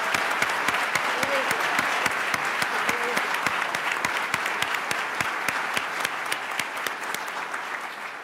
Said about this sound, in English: let's give the DiFiore family a round of family round of applause